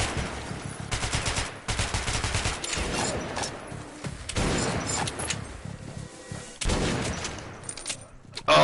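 A gun in the shooter Metro Last Light fires in rapid bursts of loud, close shots, several clustered strings separated by brief pauses.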